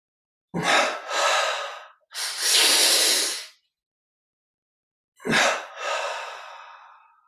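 Guided breathing exercise with strong, close breaths: a sharp gasp and long exhale, a second long breath, then after a silent pause another forceful breath trailing off slowly, loud and airy with no talking.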